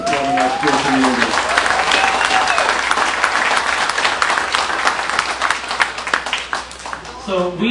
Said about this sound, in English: Let's give Nancy and the sponsors and family another round of applause for supporting our school community